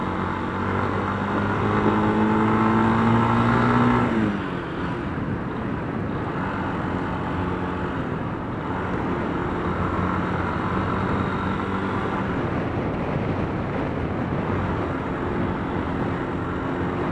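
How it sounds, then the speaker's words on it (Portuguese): A motorcycle engine with a welded, repaired exhaust runs steadily and fairly quietly, a low throbbing hum that drops slightly after a few seconds of higher revving. "Vê que a moto tá bem mais silenciosa"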